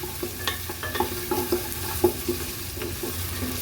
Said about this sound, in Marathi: हे दोन्ही गोष्टी एकत्र फ्राय झाल्या की खूप सुंदर लागतात।